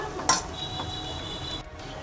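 Egg fried rice being stirred and tossed in a pan, with a sharp metal clink of the spatula against the pan, soft scraping and a faint sizzle, close and fairly quiet.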